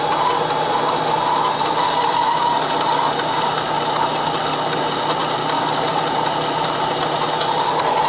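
A mini lathe runs steadily while turning motorcycle bungs for an XLCH chopper, a continuous mechanical whir with fine ratcheting texture and no pauses, close and constant throughout.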